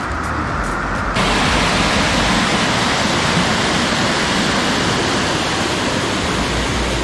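Floodwater after heavy rain roars through a ford and pushes off into bushes, a loud, steady broadband rush close by that swells slightly after the first second and never lets up.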